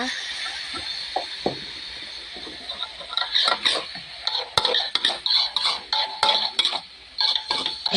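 Egg is stir-fried in a pan with a utensil, loud metallic scraping and clinking close up, sparse at first and then growing into quick, rhythmic strokes.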